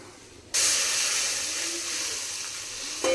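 Water hits hot oil seasoned with whole spices, a dried red chilli, salt and turmeric in a kadai, bursting into a loud steady hiss that holds for a few seconds with no voices.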